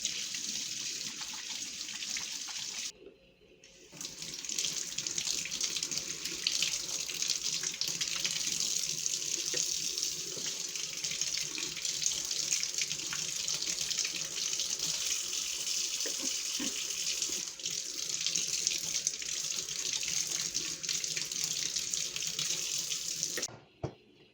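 Tap water runs steadily into a sink while water-glassed eggs are washed, a loud, continuous splashing rush that starts briefly, pauses, then flows unbroken for about twenty seconds with no talking.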